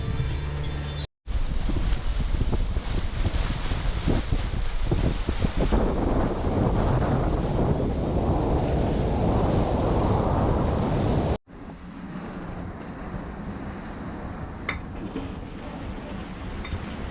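A sailboat under sail along the New Zealand coast at about 5.4 knots in a steady breeze, with continuous close wind rush buffeting the microphone and water washing past the hull. There is a brief dropout near the start and a shift in tone partway through.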